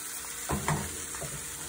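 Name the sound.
chicken pieces and bacon frying in a pan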